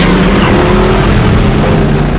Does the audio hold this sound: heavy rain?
no